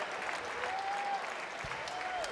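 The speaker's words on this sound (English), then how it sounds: "Give her a round of applause." Audience applause at a Barrett-Jackson charity auction of the 2020 Chevrolet Corvette VIN 001, steady and fairly faint, with a brief tonal whistle-like sound over it and a low thump.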